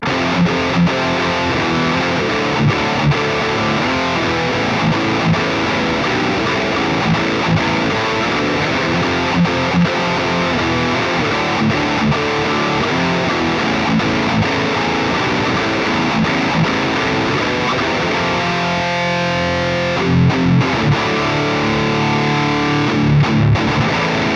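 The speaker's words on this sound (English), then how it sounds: "let's go ahead and throw in the Super Overdrive, which is one of my absolute favorite boost pedals" Electric guitar played through a Revv G4 preamp pedal pushed by a Super Overdrive boost, giving a chunky, heavily distorted high-gain tone in dense continuous riffing that stays loud throughout, with a few choppier palm-muted bursts near the end.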